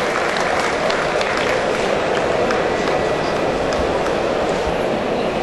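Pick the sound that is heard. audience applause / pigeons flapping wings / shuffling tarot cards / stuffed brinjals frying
audience applause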